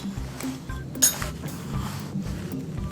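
Salad is stirred on a plate with a utensil, close, clinking and scraping in quick irregular strokes, with a soft squish of the ingredients.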